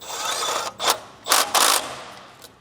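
A ratchet tightens a bolt on a car in a home repair shop, giving a few short bursts of quick mechanical clicking separated by pauses, close and fairly loud with no talking.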